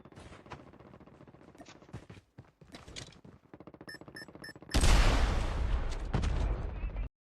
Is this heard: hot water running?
no